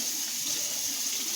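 Tap water runs steadily into a kitchen sink, a continuous close hiss and splash with no talk.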